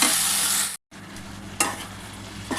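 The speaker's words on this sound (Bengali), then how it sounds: "এবার আমি কিন্তু জলটা দিয়ে দিচ্ছি" Water poured into frying mutton masala in a pan: a loud steady sizzle breaks off, then resumes as a softer, lower hiss with a couple of sharp spitting flares.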